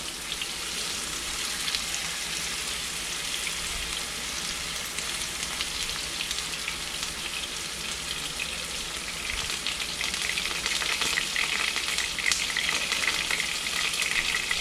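Pork ribs fry in hot oil, giving a steady crackling sizzle with fine popping spatter that continues close and even throughout, with no talking.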